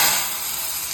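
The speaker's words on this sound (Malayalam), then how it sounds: "ലാസ്റ്റ് ഘട്ടത്തിൽ നമ്മൾ കുറച്ച് കടു വറുത്ത് ഒഴിക്കുന്നുണ്ട്" Mustard seeds fry in hot oil for tempering a crab curry, giving a loud, dense, continuous hiss and sizzle that swells at first and then holds steady, with no voices.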